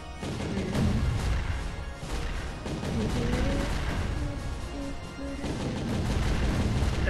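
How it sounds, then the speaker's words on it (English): Cannons fire in the Castle Crashers video game, a dense, continuous barrage of booming, crashing blasts over about seven seconds, loud and steady with no talking. "he's firing the cannons again"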